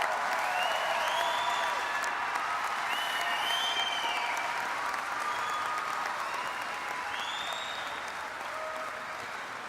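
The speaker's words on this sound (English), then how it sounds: "Let's give these young people who have worked very hard for the last 4 years one more hand of applause." Sustained applause from a large audience at a high school graduation ceremony in a big hall, loud and even throughout with a few faint whistles and cheers, tapering slightly toward the end.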